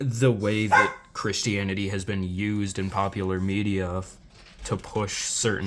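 Background barking from a dog cuts in under a man's ongoing speech, with a few sharper bursts near the end as he pauses and resumes.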